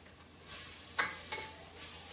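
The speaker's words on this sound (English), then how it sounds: "let me give these a stir. And I'm gonna plop my garlic in real quick." Garlic sizzles quietly in a pot of taco soup base while it is stirred, with a soft steady hiss and two brief scraping knocks of the spoon near the middle.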